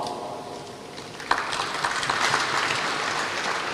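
Audience in a school hall at a church conference session clapping hands, a broad wash of applause that swells after a sharp onset and continues steadily, moderately loud with no speech.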